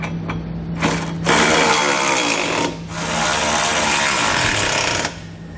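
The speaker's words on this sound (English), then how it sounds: "Then we can come back to that same 16mm socket and snug up all the hardware." A ratchet fitted with a 16mm socket tightens trailer hitch hardware on a 2020 Volkswagen Tiguan, giving a few bursts of rapid clicking close up, separated by short pauses, with no talk.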